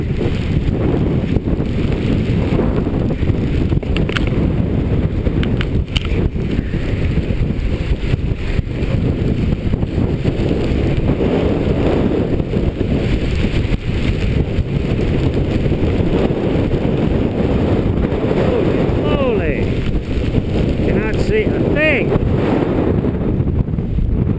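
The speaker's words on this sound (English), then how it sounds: "The wind won't let me get down the hill." Strong, relentless wind roars through a white-out blizzard on Storm Peak at Steamboat, a loud unbroken blast hammering the microphone for the whole stretch.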